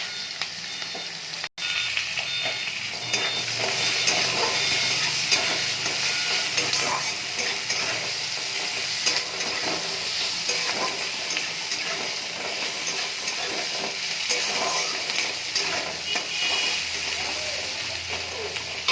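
A steady, loud sizzle of onion, chili and whole cumin frying in hot oil in a pan continues throughout, with occasional stirring scrapes and no voices.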